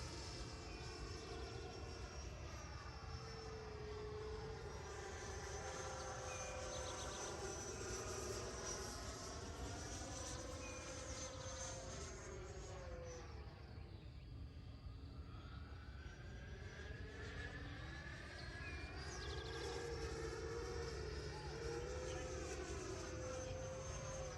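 An E-flite Viper 90mm electric ducted-fan RC jet streaks past, its high whining roar rising and falling in pitch with a Doppler sweep as it passes, loud and continuous throughout.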